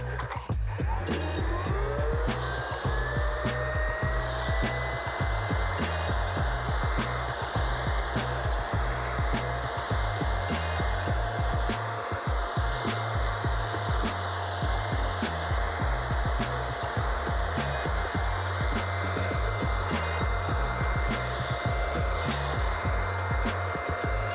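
TTG SF8A512 garden blower vacuum running with its nozzle attachment, a loud steady motor whine and rushing airflow that spins up at the start and holds constant throughout, close to the listener with no talk.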